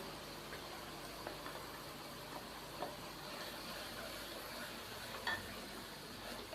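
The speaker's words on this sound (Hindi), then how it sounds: "मसाले को 4 से 5 मिनट तक भून लेते हैं" Spice paste with finely chopped green chillies frying in a pan for potato and spinach curry, a soft steady sizzle with faint stirring scrapes, quiet and continuous with no talk.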